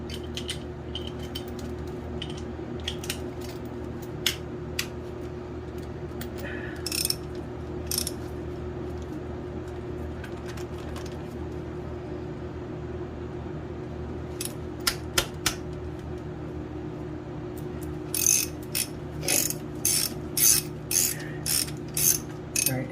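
Ratcheting clicks from a socket wrench come in scattered bursts, with a quicker run near the end, during brake work on a Farmall H tractor over a low steady background hum.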